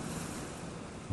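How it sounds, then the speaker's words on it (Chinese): Wind-driven sea waves crash against the shore in a steady, dense roar that holds without a break through the short stretch and swells slightly at the very end. "唯有风吹海浪，惊涛拍岸"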